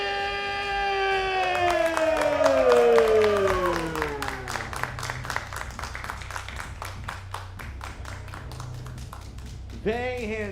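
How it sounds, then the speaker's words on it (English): A crowd at a South American eFootball mobile championship applauds and cheers the Brazil team, with a swooping tonal music or horn sound over it early on, then clapping with scattered claps standing out, and a voice briefly at the end. "A huge applause"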